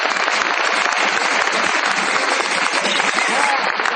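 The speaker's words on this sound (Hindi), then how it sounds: "एक बार इनके सम्मान में जोरदार तालियां बजाएं।" Vigorous, dense applause from a meeting audience welcoming first-time guests, a continuous even roar of clapping at steady loudness throughout.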